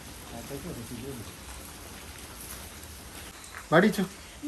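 Steady patter of rain falling on surfaces, moderately loud and continuous, with short bursts of a voice talking over it.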